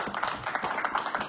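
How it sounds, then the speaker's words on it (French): A studio audience at a French-language television show claps, a brisk, fairly close round of applause with rhythmic bursts of hand claps throughout. "Super, on applaudit."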